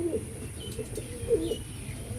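Two brief bursts of soft pigeon cooing, about a second apart, come from birds in a pigeon loft over quiet, steady background noise.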